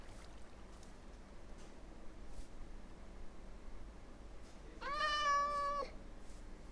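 A cat in the Minecraft video game lets out a single clear meow near the end, standing out over a steady low hiss of background noise with no talking.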